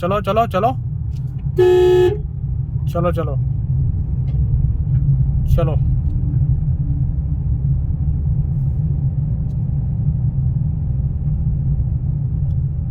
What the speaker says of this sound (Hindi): आराम से चलाते रहो, हॉर्न भी देते रहो।